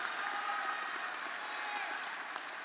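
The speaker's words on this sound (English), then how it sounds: "please hold your" Faint, distant applause ripples through a commencement ceremony crowd, a soft, even wash of clapping held at low volume throughout.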